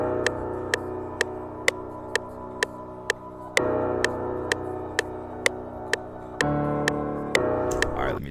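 A beat made from a loop kit in FL Studio plays with sustained chordal tones and crisp, evenly spaced hi-hat-like ticks, with the harmony shifting every few seconds.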